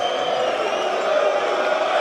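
Crowd murmuring and reacting at a Mosconi Cup pool match between Europe and the Americans, a steady broad wash of many voices held at even loudness throughout.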